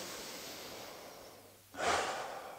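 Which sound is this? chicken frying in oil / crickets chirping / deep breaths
deep breaths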